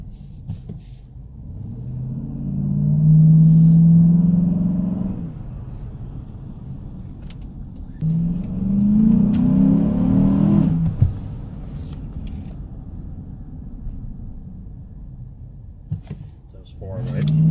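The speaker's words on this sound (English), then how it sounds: "Engine sounds great though." An '08 Jeep Commander 4x4 with a Hemi V8 idles and revs in two rising surges, a low droning engine tone that swells and fades, with people talking over it.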